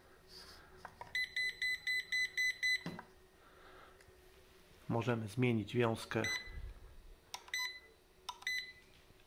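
A Chinese laser device beeps while being set, with a rapid run of short, evenly spaced electronic tones, a pause with talking, then another few quick beeps, close and clear.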